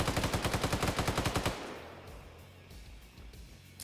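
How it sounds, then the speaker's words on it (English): Rapid automatic fire from a machine gun in a military shooter video game, a fast burst of about fifteen evenly spaced shots lasting a second and a half, loud and close, then fading echo and low rumble. "Machine gun shots going out."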